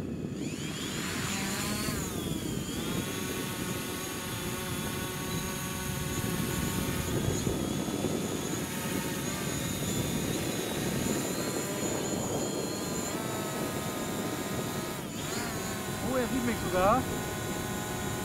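DJI Mavic Pro quadcopter drone taking off and hovering nearby, a steady whining propeller buzz with rising and falling harmonic tones running throughout, while people talk under it.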